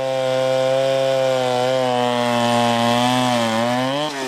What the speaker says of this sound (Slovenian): Glas motorne žage je takole minulo soboto odmeval po Solčavi.